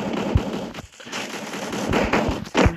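Rapid bursts of gunfire and impact thuds from a Wukong-skill game mode as the player is shot, several loud sharp cracks clustered near the start and end over dense background game noise.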